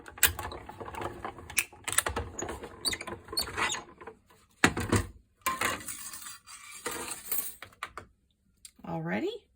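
A Cuddlebug die cutting machine is cranked to run card stock through, giving close, irregular bursts of ratcheting clicks and grinding with short pauses between turns.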